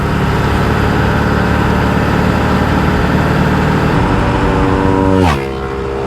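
A motorcycle passing really fast on the road, a steady loud roar of traffic and engine noise with a sharp swooping pitch drop near the end as it rushes by close.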